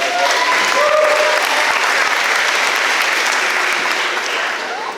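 Audience applause at an elementary school evening of the arts, a dense, sustained wash of clapping from a seated crowd, loud and steady before easing slightly toward the end.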